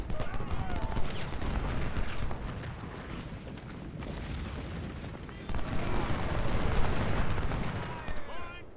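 Civil War battle in the strategy game Ultimate General at Antietam, with dense volleys of rifle fire and booming artillery rolling continuously, thinning briefly in the middle before surging again.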